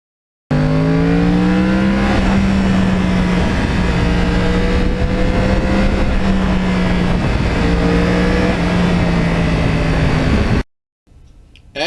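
A 2009 Yamaha R1 crossplane sportbike with 35,000 miles, its engine loud and close as it pulls hard with the throttle wide open, the pitch climbing and holding through two surges before cutting off abruptly.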